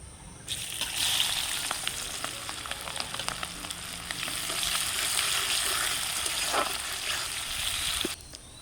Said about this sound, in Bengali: এবার তেলের মধ্যে গোটা জিরে গোটা গরম মশলা আর শুকনো লঙ্কা ফোড়নে দিলাম